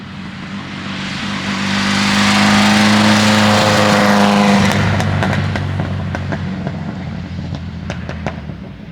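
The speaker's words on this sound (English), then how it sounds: "And I drive in a race spec Alfa Romeo 33." Race-spec Alfa Romeo 33 driven on a public road, its engine revving loudly up through a climbing pull, then easing off to a lower drone as it settles, with sharp ticks and pops near the end.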